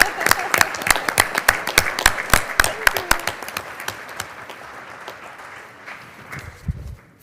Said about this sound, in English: I would call for an applause.